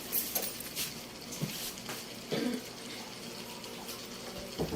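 Water runs from a tap into a basin, splashing close by with a light clink now and then. Faint background voices are heard.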